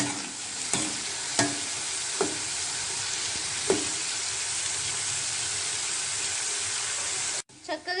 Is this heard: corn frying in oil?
yes